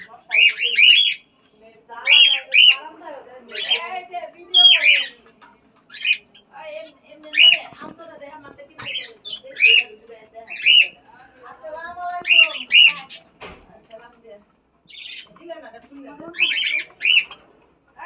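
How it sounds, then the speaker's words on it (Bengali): Caged birds on a balcony chirp and squawk in repeated bright bursts, a lively chorus of many calls close by, continuing steadily throughout with short pauses. "পাখির এই কিচিরমিচির কলরব শুনতে চমৎকার লাগতেছিল।"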